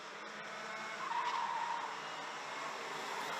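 Junior racing karts at the 2022 Golden Trophy race through turns 11 and 12 of the track, their engines a faint, distant whine that swells briefly, with a hint of tyre scrub.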